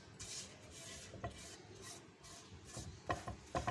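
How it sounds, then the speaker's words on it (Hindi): Flour dry-roasting in a pan over a low flame and being stirred, giving soft, faint scraping and rasping that runs throughout, with a few sharper scrapes near the end. "अब मैदे को थोड़ा सा भून लूँगी अच्छी तरह, बिल्कुल आस्ता आग करके तो इसको भून लेना है।"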